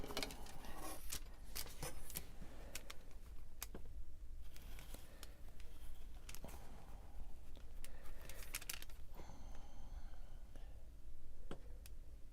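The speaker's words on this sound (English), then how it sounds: "I'll do that with scissors." Scissors snip through a large paper junk-mail envelope in a series of sharp, close cuts spread irregularly across the stretch, with paper rustling and handling noises between them in a quiet room.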